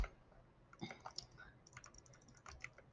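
Typing on a modded mechanical computer keyboard: a quiet, uneven run of soft key clacks, with small bursts of several keystrokes close together.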